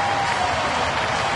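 Baseball stadium crowd roaring after a walk-off win in extra innings, a dense, steady wash of cheering and applause throughout the short stretch with no clear breaks.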